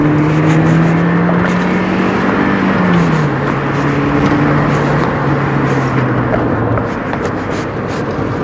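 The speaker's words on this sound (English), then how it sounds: "just for demonstration purposes only, just rev it a little bit" An MG F VVC engine revs up and holds steady as the car rounds a bend, a loud, continuous drone with pitch rising then dropping and settling, close and with no talk over it.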